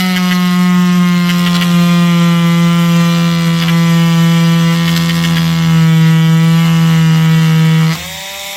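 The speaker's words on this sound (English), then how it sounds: "I'm drilling into nylon, 3D printed, and it's really freaking tough," A steady, high-pitched whine of a small rotary burr grinding into tough 3D-printed nylon, loud and close, its pitch dipping briefly before it winds down near the end.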